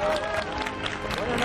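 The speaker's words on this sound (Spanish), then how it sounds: "Germán Martitegui, fuerte el aplauso." A television studio audience applauds and cheers loudly and steadily while a Spanish-speaking host's voice talks over the clapping.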